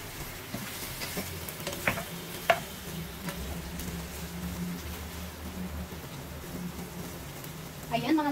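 Chicken feet adobo being stirred in a pan, with scraping utensil strokes and a steady sizzle under faint background talk, a few sharper clacks standing out.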